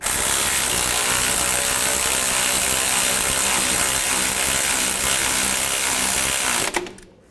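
Power tool or ratchet tightening a stud for an exhaust bracket during catalytic converter replacement on a 2007-2014 Chevrolet Silverado 2500 HD, a steady, loud continuous whir running several seconds before stopping abruptly near the end.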